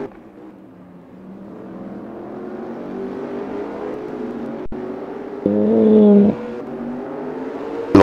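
A rally car sliding sideways through a winter-season race course, its engine droning steadily at a distance, rising briefly into a louder higher rev before easing off again.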